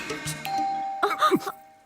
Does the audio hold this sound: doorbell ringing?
yes